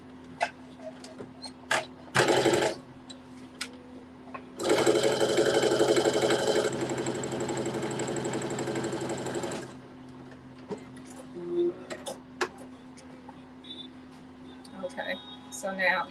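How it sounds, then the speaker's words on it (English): A sewing machine runs a straight stitch on black fabric in two bursts, a short whir and then a longer steady hum of about five seconds, close and loud, with quiet handling noise around it. "You're going to do a straight stitch from notch to notch on the front of the fabric."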